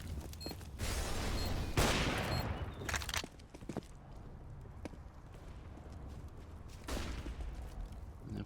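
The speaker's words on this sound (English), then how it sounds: "And Flex and Karnas with those submachine guns." Submachine gun fire in a competitive tactical shooter match: dense bursts of rapid gunfire up front, then scattered shots and footsteps, loud and close with a final burst near the end.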